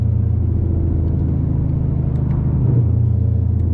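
A Camaro ZL1/SS with an upgraded exhaust rumbles loud and close while downshifting, a steady deep drone that swells briefly near the end.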